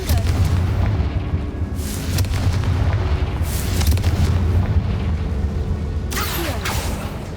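A Confringo spell fires off in Hogwarts Legacy, a deep booming blast with a broad rumble that rolls on under game ambience, followed by a couple of sharper bursts later on.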